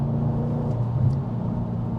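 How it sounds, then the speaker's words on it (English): Audi RS4 B7 with a 4.2 V8, stage 1 remap and custom exhaust, giving a steady deep engine rumble that stays loud and even throughout, with no talking. "But this modified car with a stage 1 remap, custom exhaust system, sounds absolutely perfect."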